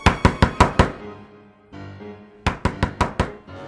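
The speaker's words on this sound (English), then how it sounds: "I was pretty sure that the knocks had come from the front door" Knocking on a front door: a loud, close series of five sharp raps, a pause filled with low background sound, then another run of about six quick knocks.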